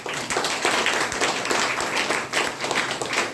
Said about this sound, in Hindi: तो जोरदार ताली होनी चाहिए।